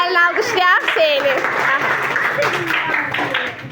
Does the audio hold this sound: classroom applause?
yes